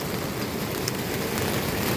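Steady, dense rain falls outdoors in a village, a continuous hiss of drops on surfaces with no pauses or voices.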